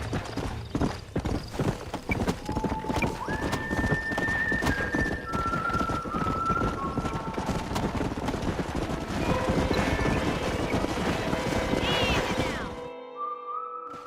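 Horses gallop with rapid, loud clip-clop hoofbeats in Red Dead Redemption on Xbox 360, with whinnies rising over the run before the hoofbeats cut off abruptly near the end.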